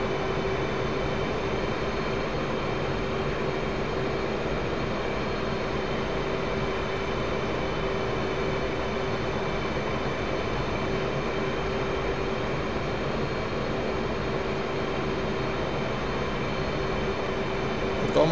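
The F/A-18C's jet engine in the flight simulator DCS World gives a steady, unbroken drone at moderate level for the whole clip, with no clear change in pitch.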